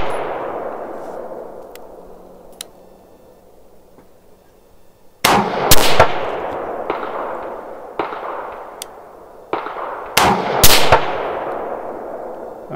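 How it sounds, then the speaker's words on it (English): Gunshots ring out at an outdoor shooting range: a distant faint report, then a series of loud, close cracks in irregular pairs and singles with ringing decays, no talking. "So Ty's turn to shoot"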